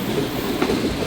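A parcel train passes near a station in Pakistan, rolling by close and steady with a continuous rumble and faint wheel clatter, no voices.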